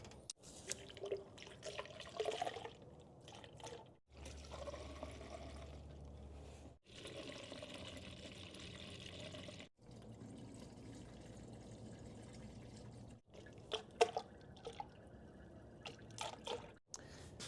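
Water is poured into the radiator of a cheap, badly neglected used pickup truck: quiet trickling and splashing pours in several separate bursts, with pauses, clicks and handling noises between them.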